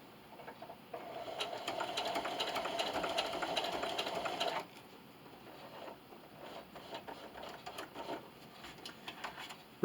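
A sewing machine stitches a plastic bag dispenser in a fast, even run of needle clatter lasting about four seconds, then drops to softer, scattered clicks and handling sounds.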